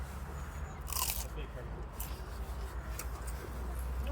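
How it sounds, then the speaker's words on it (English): Someone bites into a samosa with a crisp crunch close to the microphone, a few brittle bites in a row over steady low background rumble. "if you come in a little closer, you might be able to hear the crunch"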